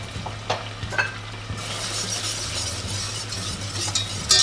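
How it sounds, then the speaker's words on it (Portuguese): Chopped onion and garlic fry in a pan, a close steady sizzle that opens with a few utensil scrapes and then swells into a fuller crackle, ending with a sharp clatter, no voices. "Ó, a cebola e o alho já estão bem fritinhos."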